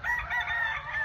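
A gamefowl rooster crows loudly and close by at a game farm in Bacolod City, a sustained strained call with chickens faintly clucking underneath; no voices.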